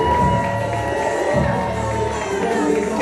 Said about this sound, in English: Capacity crowd cheering.